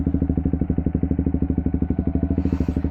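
A Triumph Speed 400 motorcycle's single-cylinder engine idles close by, its steady rapid thumping pulse staying even throughout, with a faint rise of hiss near the end.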